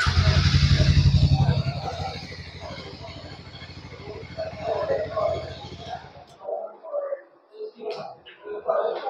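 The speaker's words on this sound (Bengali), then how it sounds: "একবার আপনাদের ইঞ্জিন আর এক্সস্টের সাউন্ড আমি শুনিয়ে দিচ্ছি" A Hero Mavrick 440 motorcycle engine and exhaust run loud and close with a throaty idle that then cuts off abruptly, with a voice talking over it.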